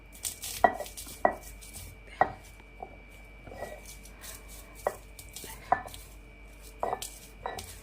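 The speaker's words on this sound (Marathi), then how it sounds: "आपण पाट्यावर वाटणार आहोत शेंगदाणे" Peanuts coarsely crushed on a flat grinding stone with a stone roller in a home kitchen: about a dozen sharp, close knocks and scrapes at an uneven pace, with no talking.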